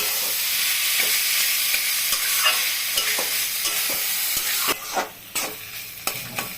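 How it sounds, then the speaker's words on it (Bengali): Steady sizzling of cauliflower frying in a pan, with scraping stirs and clacks of a spatula growing more distinct toward the end; no talk. "ফুলকপিটা যখন একটু ভাজা ভাজা হবে"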